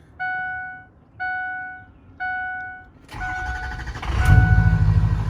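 Ford 6.0L PowerStroke diesel pickup truck starting: three chimes sound first, then the starter cranks and the engine catches and settles into a loud, close rumbling idle.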